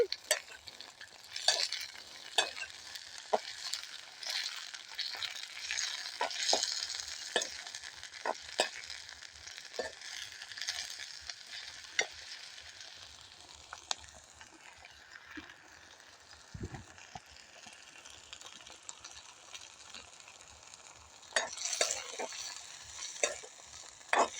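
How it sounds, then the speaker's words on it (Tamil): Pirandai (adamant creeper) sautés in hot oil for a homemade thokku, a soft steady sizzle with a spoon stirring and scraping the pan at irregular intervals, quiet and close throughout. "இதை நாங்கள் நல்ல வரும் மட்டும் இதை எண்ணெயில் நாங்கள் வதக்கி எடுக்கப் போகிறோம்"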